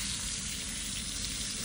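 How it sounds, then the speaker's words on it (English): Steady, close sizzling of copperhead snake meat cooking over a charcoal fire, a continuous crackling hiss with no voices. "Let it sizzle down a little bit."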